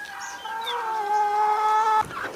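Backyard hens in a coop, including red egg-laying chickens, give a loud, drawn-out call close by that holds steady for about two seconds before breaking into a short, rougher burst.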